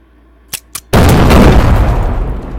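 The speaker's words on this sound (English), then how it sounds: "pull out the detonator, set the bombs off as you're about to hear" Bombs set off by a detonator in the video game DayZ: two short clicks, then a huge loud blast that rolls on and slowly fades, close and alone.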